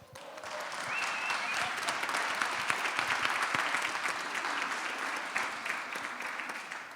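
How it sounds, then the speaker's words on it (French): A panel event audience breaks into sustained applause, dense overlapping clapping that swells in the first second and stays strong throughout, with a few scattered voices underneath. "on peut se donner une bonne main d'applaudissement."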